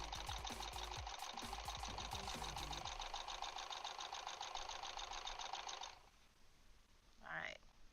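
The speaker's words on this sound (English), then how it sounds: "now when I sew these other ones, everything should be connected when I come back." A sewing machine stitches scrappy quilt pieces with a steady fast mechanical whir and tapping for about six seconds, then stops, followed by quiet handling and a brief voice.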